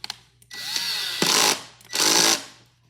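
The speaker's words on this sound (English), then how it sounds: "take your wood screws, insert it through your hole here. With your drill set at a 6" A power drill set to a low clutch setting drives wood screws into an A-leg flip-top nesting table, two loud sustained whirring bursts close by with a brief pause between, no talking.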